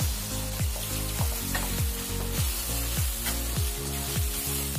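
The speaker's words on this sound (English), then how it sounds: "At this time we'll add nearly 1 teaspoon of coriander powder and give this a nice mix." Chicken and coriander powder sizzle steadily in a hot pan. A utensil scrapes through them in a regular stirring rhythm, close and loud, with no voices.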